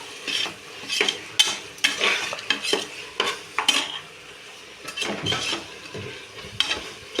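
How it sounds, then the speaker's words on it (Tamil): Carrots, beans and other vegetables for a veg biryani are stirred in a pan, a spoon scraping and clinking in repeated bursts over a soft sizzle, close and fairly loud, with no talking. "எல்லாத்தையும் நல்லா கிண்டி விட்டுக்கலாம்"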